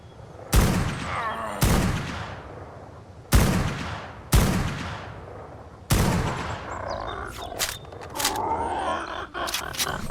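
Gunfire in the survival game ARK Survival Ascended, five loud, sharp shots spaced a second or two apart, each trailing a short echo, followed by quicker bursts of fire mixed with a speaking voice.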